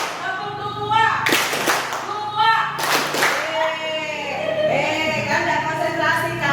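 Rhythmic group clapping at an Indonesian school teacher training session, with loud bursts of claps in a one-three-two style pattern, mixed with voices and room chatter between the bursts.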